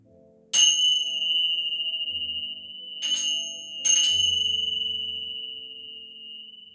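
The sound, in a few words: bells ringing during yoga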